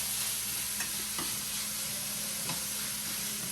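Ground lamb sizzles and fries steadily in a pan, with a few faint clicks of a utensil stirring it, close and continuous with no voice.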